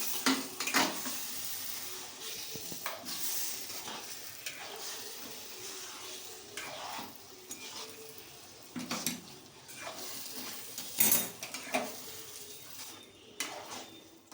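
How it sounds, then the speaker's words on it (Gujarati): Whole stuffed onions in a thick Kathiyawadi-style curry gravy are gently mixed in a pan, giving soft scattered scrapes and a few sharper utensil knocks against the metal over a quiet background with light sizzle. "હવે એને આપણે ધીમે ધીમે મિક્સ કરી લઈશું."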